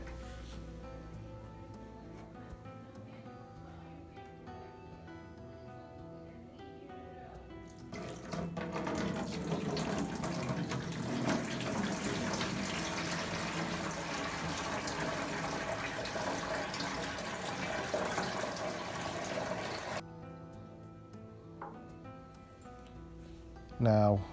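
Water pours steadily through a cloth rag held over a container to strain week-old gourami fry, a continuous splashing rush from about 8 to 20 seconds between quieter stretches, with someone talking throughout.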